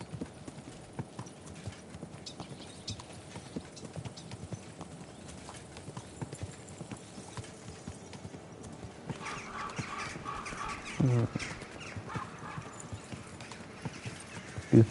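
Horse galloping in the video game Kingdom Come Deliverance 2, a continuous rhythmic drumming of hooves at a steady close pace, with a brief whinny-like sound near the end.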